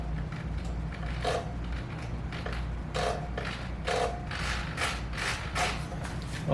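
Small servos on a ready-to-run RC Sukhoi-27 parkjet whir in short repeated bursts as they move the elevators and ailerons, close up over a steady low hum with no talk.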